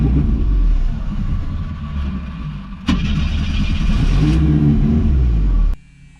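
Classic barn-find car engine revving after a tap on the carburetor, loud and close, with a rough idle that jumps into a sharp rev, holds strong, then drops away abruptly near the end.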